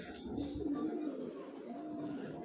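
Pigeons coo faintly nearby, low murmuring calls drifting in and out over a quiet, steady background.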